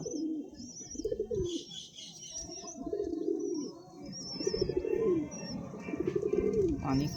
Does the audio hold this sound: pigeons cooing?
yes